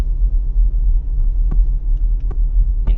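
Inside a moving Toyota Harrier, a loud continuous low road rumble and throbbing cabin drone fills the space, with a few faint clicks and taps over it and no talking.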